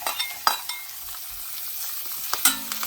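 Crushed garlic and chili frying in hot oil over a high flame give a steady close sizzle, with sharp crackles and clinks of a stirring utensil scattered throughout.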